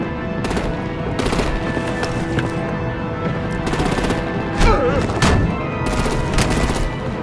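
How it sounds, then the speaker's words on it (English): Rapid bursts of automatic gunfire from artillery opening up on vehicles in a Batman: The Enemy Within game scene, loud, close and repeated in several volleys across the clip. "Break out the artillery and disable their vehicles!"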